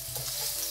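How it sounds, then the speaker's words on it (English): Ginger garlic paste hits hot oil and sizzles briefly, a loud, steady hiss that is close up and has no voices over it. "When the oil is hot, add the ginger garlic paste."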